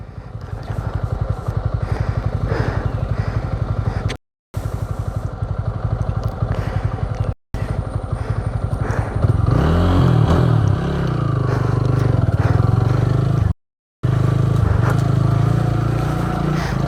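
Royal Enfield Himalayan motorcycle on a rough dirt adventure trail in Goa, steady close engine drone with rising revs and clattering, cut by brief silent gaps.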